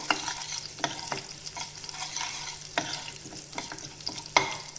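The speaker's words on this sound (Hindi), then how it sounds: "जीरा को लगातार चलाते हुए हल्का सा गोल्डन ब्राउन होने तक ही" Cumin seeds fry in about a spoonful of hot oil while a spoon stirs steadily, with a continuous close sizzle broken by repeated scrapes and clicks against the pan, and no voices.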